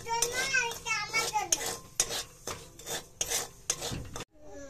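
Palm pulp is mixed by hand with flour, sugar, salt and fried semolina, giving repeated wet rubbing and squelching strokes with occasional clinks against a bowl, close by, then a brief quiet at the end.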